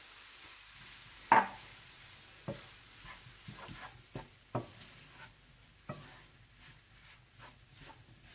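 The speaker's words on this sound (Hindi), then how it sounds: "आप इसमें भुना हुआ मैदा डाल दें और अच्छी तरह से मिला लें" A spoon stirs roasted flour into a pistachio barfi mixture, making quiet scraping strokes and a few soft knocks against the pan. No one speaks.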